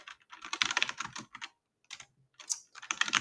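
Rapid bursts of typing on a new computer keyboard, close and fairly loud, in quick clustered runs with a silent pause midway before the keystrokes resume.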